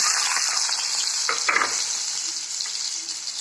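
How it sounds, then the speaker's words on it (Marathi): Onion frying in hot oil with mustard seeds and cumin for a green chilli and gram flour dish, a steady close sizzle with a brief stirring scrape around the middle and no talking. "आता ह्याच्यामध्ये कांदा टाकतो"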